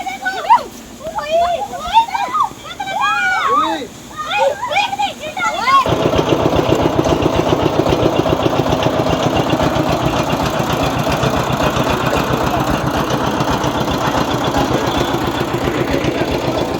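A water-powered mill runs with a steady, loud churning rumble and rhythmic knocking, water splashing through it, continuous and close after people talk over it at first.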